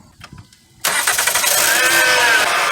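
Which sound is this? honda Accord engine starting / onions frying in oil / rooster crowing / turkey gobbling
honda Accord engine starting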